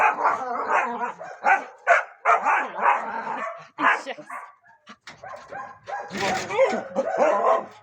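Dogs bark and yip repeatedly up close, several short bursts in a row, with a person talking over and between them.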